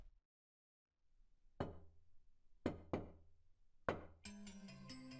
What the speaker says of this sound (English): Now the knocking sound!